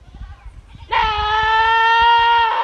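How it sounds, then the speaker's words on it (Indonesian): A goat bleats once, loud and close: a sustained, strongly voiced cry lasting well over a second, starting abruptly after faint low background rumbling. "Ini kambing."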